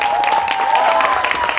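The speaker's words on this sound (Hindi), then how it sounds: "एक बार जोरदार तालियां वरुण के लिए" A crowd at a Border 2 film event claps and cheers loudly throughout, with a sustained tone and a voice mixed in beneath the applause.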